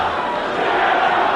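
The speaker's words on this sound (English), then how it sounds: "An interesting chant from the crowd." Spectators at a Frank Shamrock versus John Lober fight chanting together, a dense, steady roar of many distant voices filling the arena without pause.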